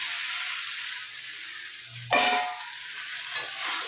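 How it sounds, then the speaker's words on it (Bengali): Soybean chunks tipped into a pan of spiced potatoes, with a sudden loud sizzle burst after a quiet stretch of low frying, then a second smaller sizzle and stirring, no voices. "তো সোয়াবিন দিয়ে এবার কষাবো"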